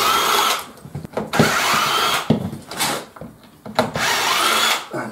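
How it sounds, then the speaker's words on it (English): A power drill runs in several short, loud whirring bursts with pauses between them, backing screws out of a rolling workshop door. "Let's remove a couple of screws here first."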